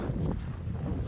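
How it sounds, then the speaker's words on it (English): Wind gusts buffet the microphone outdoors in high desert country near a rock art site in Utah, a steady close rumbling roar with no voices. "Oh, and it's windy out here today."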